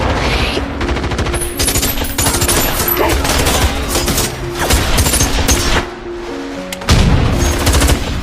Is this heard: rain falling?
no